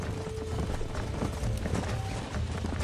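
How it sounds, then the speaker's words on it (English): Wild horses gallop in Red Dead Redemption, a dense, steady drumming of hooves that runs close and loud for the whole stretch. "Oh, look, there's wild horses."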